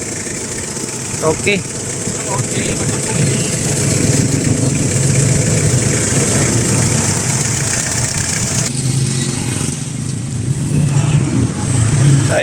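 An overhauled owner-type jeep engine idles with a steady low rumble and vibration, close by, while someone speaks briefly over it.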